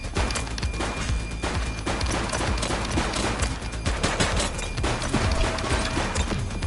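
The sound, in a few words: gunfire from a police shootout in the video game The Precinct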